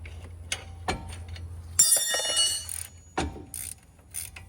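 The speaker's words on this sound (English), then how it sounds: "Now we're gonna go ahead and loosen our upper control arm bolt." Ratchet wrench with an 18 mm socket loosening a vehicle's upper control arm bolt: a few sharp clicking ratchet bursts and metallic clanks up close, separated by brief pauses.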